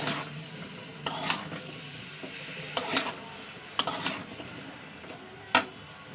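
A spoon stirs tomato and spices in a hot pan for a fish curry with drumsticks and potatoes, a low sizzle broken by four or five sharp scraping strokes against the pan, close and clear with no talk.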